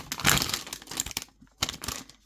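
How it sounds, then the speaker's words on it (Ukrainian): A small plastic packet is cut open with crinkly, crackling snips and rustles in short bursts separated by brief pauses, close and fairly quiet. "Ну, порезал пакетик."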